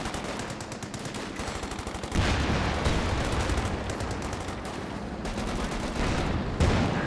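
Rapid .50 cal machine gun fire in the game Company of Heroes 2 rattles in long, dense bursts with brief gaps, loud and continuous over battlefield noise.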